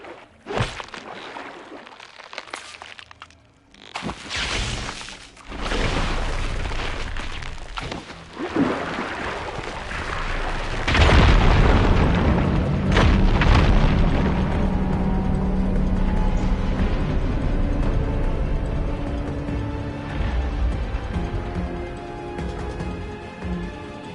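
Rubble blasted apart by an ignited fire beam in the video game Horizon: a loud burst of crumbling debris and rumbling impacts that swells after a few seconds and settles into a sustained, grinding roar.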